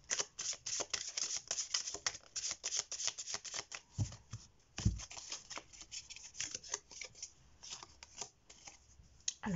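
Tarot cards being shuffled and handled for a three-card draw, giving a dense run of crisp riffling and flicking, close to the mic, with two soft thumps midway and no talking.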